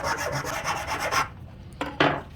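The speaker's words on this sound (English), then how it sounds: "You can just take a file or some sandpaper and just flatten that out real quick." A metal file rasps back and forth across the end cap of a tube being flattened for a glow stick launcher, with quick rhythmic strokes close up for about a second, then a pause and two more short rasps.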